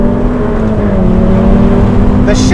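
A Ferrari F8 Spider's engine drones loudly and steadily from close by through very fast gear shifts, with a strong low rumble and harmonic tones, and a brief bright burst near the end.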